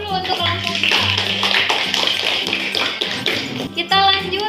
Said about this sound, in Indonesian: Beri aplaus dulu untuk kelompok